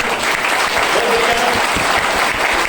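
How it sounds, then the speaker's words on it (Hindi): A meeting audience claps for Manish at the close of a speech gathering, dense and loud continuous applause filling the whole moment without any talking. "मनीष जी के लिए ताली थोड़ी अलग से बजानी पड़ेगी सर"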